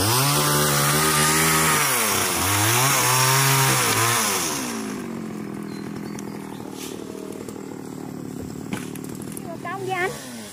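A chainsaw felling melaleuca trees in a plantation in Trường Xuân, Đồng Tháp: loud, close engine revving that swoops up and down for several seconds, then settles into a lower, steadier drone.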